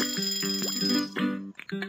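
The order bell in the cooking game Papa's Pancakeria rings in a few bright, quick metallic dings, clear and close.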